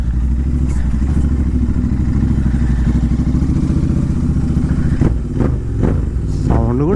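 Royal Enfield GT 650 engine running close by with a rough, newly fitted clutch, a steady low throbbing thump with clattering toward the end and a few short revs; someone talks over it.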